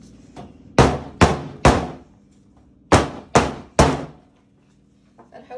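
A soap mold banged down on a hard surface to settle freshly poured soap gives six loud, sharp thuds in two groups of three, close by, with a short pause between groups.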